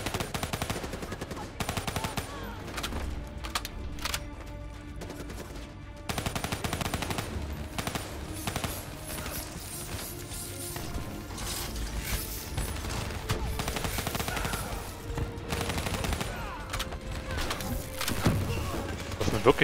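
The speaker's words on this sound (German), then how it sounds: "Einfach auf alles schießen, was sich bewegt." Call of Duty Black Ops III gunfire crackles on throughout, with repeated rapid bursts and single shots over mechanical weapon clatter, while a voice talks at moderate level beneath the fighting.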